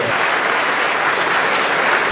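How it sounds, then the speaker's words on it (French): A crowd at a radio station's 40th anniversary evening applauds to welcome the association's treasurer and president, a loud, continuous sheet of clapping that holds evenly throughout. "Veuillez accueillir le trésorier de l'association Fabien et la présidente Marie-Hélène sous une tonne d'applaudissements, s'il vous plaît."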